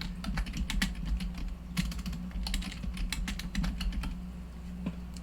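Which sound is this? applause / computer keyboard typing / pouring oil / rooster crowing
computer keyboard typing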